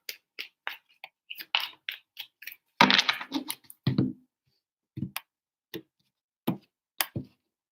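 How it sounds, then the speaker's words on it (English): Tarot cards shuffled by hand, a run of crisp separate snaps and riffles, close and alone, with one denser burst of flicking in the middle. "3 shuffles for Aquarius"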